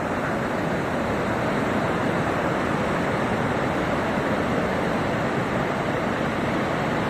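Ocean waves roll in to the shore at a beach in Goa, producing a continuous, fairly loud broadband wash of surf with no distinct breaks, mixed with wind buffeting the microphone.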